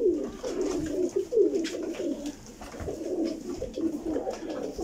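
An Odessa pigeon coos repeatedly at close range, a run of low throaty rolling calls in an uneven rhythm with brief pauses, over quiet background with a faint knock or two.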